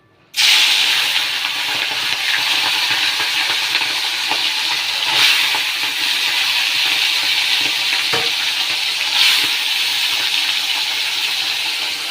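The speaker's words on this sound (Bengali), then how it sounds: "এই মাছটা দিয়ে দেব ভালো করে হলুদ মাখিয়ে নিয়েছি এবারে দিয়ে দেব তেলে" Turmeric-coated puti fish drops into smoking-hot oil for a chorchori, bursting into a loud, sustained sizzle that hisses on steadily with a couple of brief swells.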